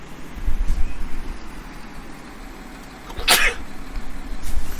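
A single sharp, loud sneeze bursts out close to the microphone, with muffled breathing and low background noise before and after.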